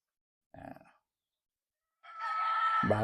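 A kelso gamefowl rooster crows, a single loud strained crow rising near the end after a brief earlier cluck-like call and a stretch of silence, close by.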